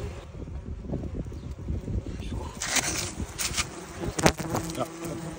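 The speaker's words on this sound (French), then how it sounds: "les petites guêpes germaniques." German wasps buzz in an agitated swarm at a nest lodged in a concrete block, a dense close drone with wind noise and handling bumps, while a person talks over it.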